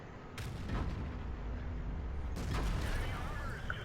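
Tank cannon shots from a T110E5 in the World of Tanks video game, two booming blasts with rumbling battle noise between them, loud and dense, with faint game-mix voices underneath.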